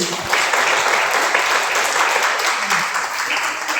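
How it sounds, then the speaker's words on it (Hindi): A crowd claps loudly and steadily throughout at a motivational business event, dense applause filling the whole stretch with a brief voice faintly beneath it. "सरो सर के लिए जोरदार ताली होना चाहिए"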